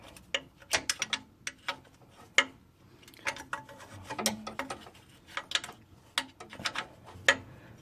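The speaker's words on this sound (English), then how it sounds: "the only way I can get in is with a 12-point wrench" A 12-point wrench slowly turning the lower pulley bolt during a timing chain job on a 2006 Cadillac CTS 2.8L engine, giving close, irregular metallic clicks and ticks in short bursts with quiet gaps between turns.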